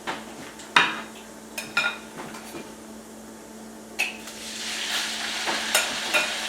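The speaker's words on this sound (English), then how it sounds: "Hear the sizzle? I love that sound." Chicken sizzles in a hot pan as a utensil clinks and scrapes now and then while it is stirred, close by.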